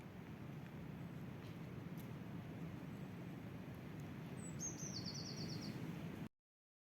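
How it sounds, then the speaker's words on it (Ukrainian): Faint bird chirps and a brief trilling call rise over a low, steady background rumble outdoors. "Чуєте, як співають пташечки?"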